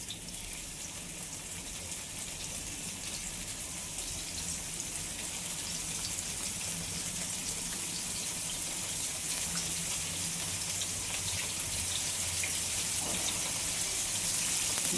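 Bombil fish frying in oil on a flat iron tawa, a steady soft sizzle and crackle that holds throughout and swells slightly toward the end.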